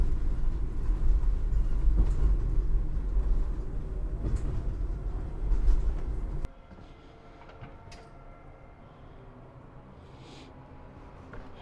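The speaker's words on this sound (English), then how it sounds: "A big old train" A train at a railway museum in Guatemala City rumbling loudly nearby with a heavy low roar, then abruptly dropping to a quieter rolling clatter with faint squeaks and clanks.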